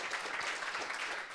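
An audience clapping at a Progressive Change Campaign Committee training event, a short burst of steady applause from many hands at moderate volume.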